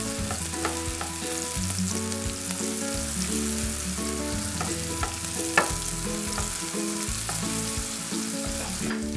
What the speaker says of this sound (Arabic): هلأ عم نقلب البصل شوي